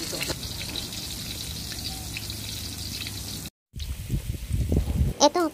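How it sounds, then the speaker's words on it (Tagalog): Pork liempo frying in a pan until brown and crispy, a steady close-up sizzle that breaks off briefly, then returns with louder spattering pops and crackles, while a voice speaks in the background. "Isunod naman natin ngayong iluto ang pork"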